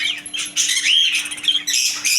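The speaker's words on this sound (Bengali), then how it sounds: "বাচ্চা টাইপের বাজরিকা পাখি জোড়া" Young budgerigars in a pet bird and aquarium shop chirp in a dense, high-pitched chatter of overlapping twitters and squeaks, loud and close, over a steady low electrical hum.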